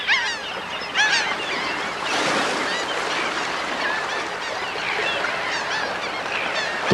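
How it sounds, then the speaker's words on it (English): Large flock of sanderlings, red knots and ruddy turnstones feeding on horseshoe crab eggs on a spring-tide beach, a dense continuous chorus of high calls and chatter over steady surf, with no speech. "millions of birds, sanderlings, redknots, ruddy turnstones descend on the beaches to partake of an egg feast"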